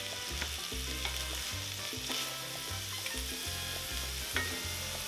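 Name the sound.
onions and garlic frying with drained meat in a pan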